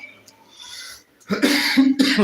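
A couple of sharp, harsh coughs burst out close by after a quiet breathy moment.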